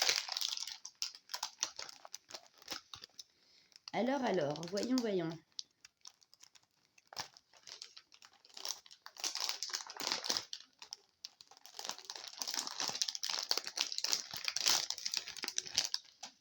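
Crinkly plastic packaging rustles and crackles in bursts, with a person speaking briefly in the middle.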